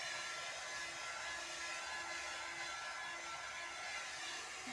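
A blower dries a puppy's thin fur, a steady, faint whirring drone with a constant airy hiss running unbroken throughout, no speech over it.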